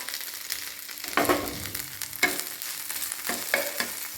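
Onion, garlic, coriander and green chili sizzle and crackle in hot oil in a pan, with a steady frying hiss and a few louder bursts as the mix is stirred.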